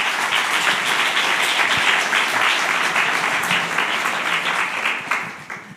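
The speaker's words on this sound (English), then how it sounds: "Give them a warm applause." Audience applause at a Studium Generale talk at the Royal Academy of the Arts in The Hague, a dense, steady roar of many hands clapping throughout, tapering off at the end.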